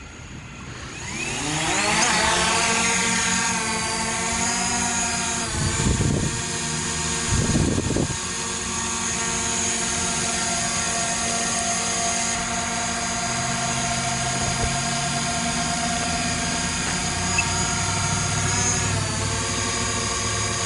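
A DJI Mavic drone with a GoPro mounted on it spins up and takes off, its propellers whining loud and close in a steady buzzing drone with shifting pitch, plus a couple of brief thuds early on.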